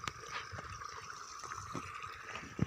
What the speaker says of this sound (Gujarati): આ બાજુ પાણી આવી ગયું છે